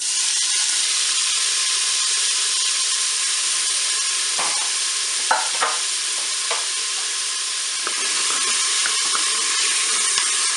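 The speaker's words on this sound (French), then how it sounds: "On va attendre, bien sûr, que l'huile soit chaude pour faire revenir les oignons" Onions frying in hot oil inside a Cookeo multicooker give a steady, close sizzle that runs throughout, broken by a few clicks and scrapes of stirring; no voices.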